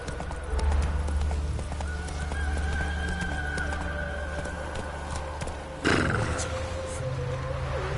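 Roach, the horse from the video game Witcher 3, gallops with steady clip-clopping hooves over a low ambient bed, with a sharp burst near the end.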